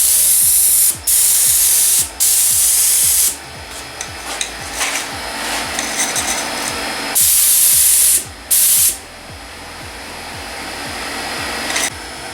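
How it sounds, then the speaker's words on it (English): A spray gun applies clear coat to a car's rear quarter panel in loud, steady hissing blasts, several sustained passes broken by short pauses, close and dominating everything else, with a faint rhythmic compressor thump running underneath. "Let me spray a little bit and show you what exactly you need to do."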